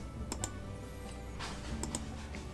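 Keyboard shortcuts tapped during 3D modeling work in Cinema 4D, a few sharp, close key clicks spaced irregularly over a faint steady hum, no talk.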